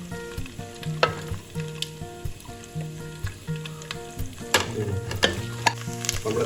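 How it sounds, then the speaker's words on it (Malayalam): Coconut pieces fry in very hot oil in a pan. A lively, close sizzle crackles with frequent pops and spits that grow busier toward the end, with a faint steady tone underneath. "എണ്ണ നല്ല ചൂടായിട്ടുണ്ട്. അപ്പോൾ നമ്മൾ ഫസ്റ്റ് ഇതിൽ ചേർക്കുന്നത് തേങ്ങാക്കൊത്താണ്."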